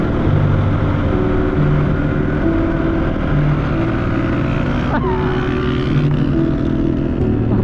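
Motorcycle engine misfiring while riding on a carpeted road, a steady loud drone with irregular uneven firing and some wind noise throughout.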